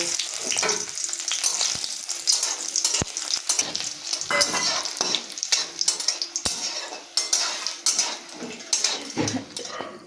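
Bori lentil dumplings fry in hot oil in a karai with a loud, close, continuous sizzle, broken by frequent clattering stirs and scrapes of a utensil.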